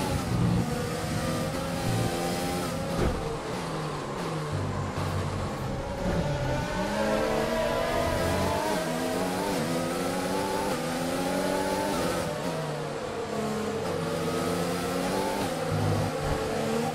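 An F1 race car engine in the F1 2020 video game revs loudly and continuously, pitch sweeping up and down through gear changes for the whole stretch, close and steady with no talk.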